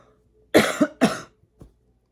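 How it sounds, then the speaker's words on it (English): Two sharp, harsh coughs close to the mic in quick succession, followed by a faint short exhale, with silence around them. "I just have these coughing fits all the time"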